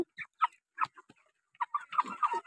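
Chickens of about 2.5 to 3 kilos on a poultry farm give a quick run of close, irregular clucks and short squawks, some overlapping near the end, with no talking.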